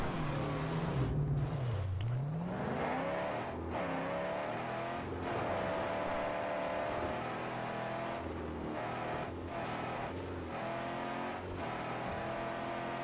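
A car engine in the video game Mad Max revs and drives loudly on its own, its pitch sweeping down and up with brief gear-change dips and tire noise.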